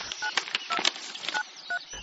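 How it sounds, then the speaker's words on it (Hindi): A telephone number being dialed, heard as a quick run of about a dozen distinct keypad tones. The tones come in an irregular rhythm with short gaps, clear and close, over faint background noise and no speech. "मैंने तुरंत वो कागज ढूंढा और उस नंबर पर कॉल किया।"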